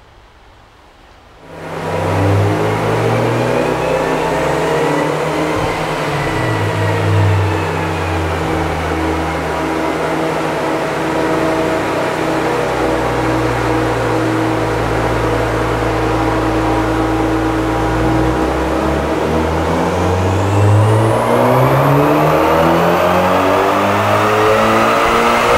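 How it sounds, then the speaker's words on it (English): A Mitsubishi Evo engine revs hard on a Mustang chassis dyno at Boostin Performance. After a quiet start, a loud, sustained engine roar rises and holds for over twenty seconds, with its pitch climbing sharply near the end of the pull. No talking. "baseline pulls on the Boostin Performance Mustang dyno"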